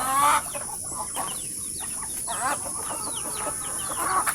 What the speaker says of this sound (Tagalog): Ayan, mga alagang hayop niya. Alagang manok.